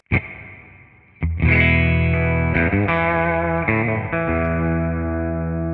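A clean Telecaster electric guitar rings through a Two-Rock amp with the boost pedal bypassed, a few strummed chords sustaining and shifting, loud and close with no talking.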